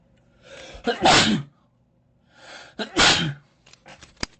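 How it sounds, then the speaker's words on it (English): Two loud, close sneezes, each with a short intake of breath before it, followed by a few sharp clicks. "Sorry, I had to sneeze."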